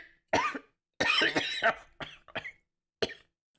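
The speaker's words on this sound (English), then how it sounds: "How long have you had that cough?" A man coughs repeatedly in an immersive audiobook reading of Poe's tale, several harsh, close, wet hacks in uneven bursts separated by short silences.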